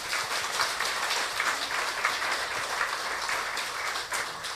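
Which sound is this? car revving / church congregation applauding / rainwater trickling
church congregation applauding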